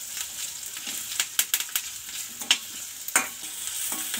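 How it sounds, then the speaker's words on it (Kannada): Chopped onion and curry leaves fry in a pan under a continuous hiss, punctuated by several sharp scraping strokes of a spatula, close by with no talk. "ಇದನ್ನು ಚೆನ್ನಾಗಿ ಫ್ರೈ ಮಾಡ್ಕೊಳ್ಳೋಣ."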